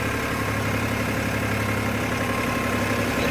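A tractor engine runs steadily while leveling soil in a small farm field, a loud, close, continuous droning hum with no breaks or talk.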